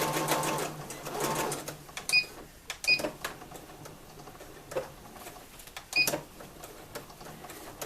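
A sewing machine stitches a burlap banner in short bursts of whirring, broken up by clicks and pauses as the fabric is handled between runs.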